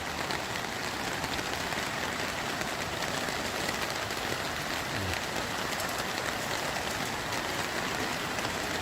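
Heavy rain pours during a flood in the town of Lahat, a dense, constant hiss of water on surfaces that holds steady throughout with no voices.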